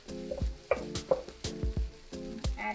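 Chopped onion and scallion hit a hot pan for fried rice, giving a steady frying sizzle broken by repeated sharp clatters of stirring, with a few brief ringing metallic tones, close and fairly quiet.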